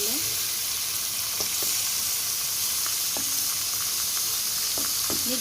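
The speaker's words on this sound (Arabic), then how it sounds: "ندي كده للفراخ بتاعتنا تشويحه حلوه" Chicken pieces sauté in a pan with a steady, close sizzle throughout, broken by a few faint clicks and taps of a utensil.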